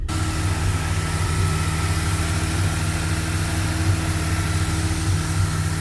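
A Mazda RX-7 rotary engine runs steadily after a tow start, a continuous low idling drone that holds an even, close level throughout with no talking.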